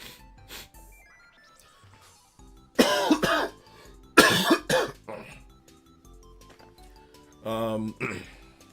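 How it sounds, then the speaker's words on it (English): Several harsh, loud coughs close to the microphone in separate bursts, with quieter gaps and a short vocal sound near the end. "Sorry for coughing into the mic, guys."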